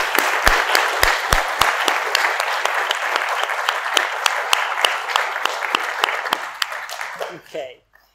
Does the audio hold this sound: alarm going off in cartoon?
no